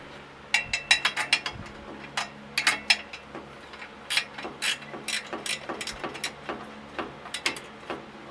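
A wrench works on the steering of a 1946 Chevy, producing quiet bursts of rapid metallic ratcheting clicks in uneven clusters, fairly close by.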